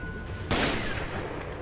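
A cannon-wielding enemy fires in the video game Sekiro, giving one loud, close blast with a sharp attack that rings out and decays over about a second, with no other sound around it.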